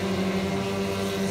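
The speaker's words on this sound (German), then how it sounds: "So, hier laufen sogar die Motoren synchron." Engines of aerobatic RC model biplanes (Ultimate type) from the Red Bull flying team at RC United Bayreuth run in sync, a steady, loud, even drone with no talk over it.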